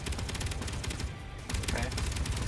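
A turret gunfire barrage in the Space Engineers video game: dense, continuous rapid-fire shots hammer steadily throughout, loud and unbroken apart from a brief dip in the middle.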